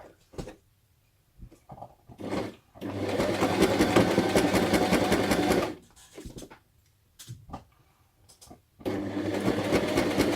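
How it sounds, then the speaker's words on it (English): A sewing machine running a straight stitch on a craft folio project, a loud close mechanical whir in two long bursts separated by short pauses, with brief clicks and handling noises in between. "So I'm just going to do a straight stitch."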